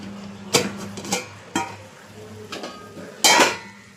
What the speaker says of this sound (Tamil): இப்போது ஒரு மூடியை வச்சு இதை இப்படி திருப்பி அதுக்கப்புறம் திரும்ப போடணும் அந்த சட்டியில்.